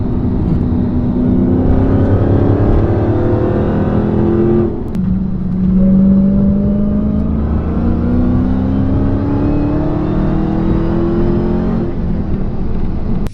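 A manual Dodge Challenger Hellcat accelerates hard, its engine note climbing steadily, dropping at a gear change, then climbing again in a loud, close roar.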